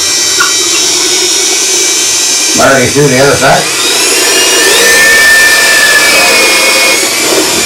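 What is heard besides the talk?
cordless drill drilling into a wall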